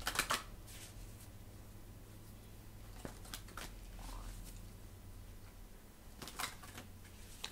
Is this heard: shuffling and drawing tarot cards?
yes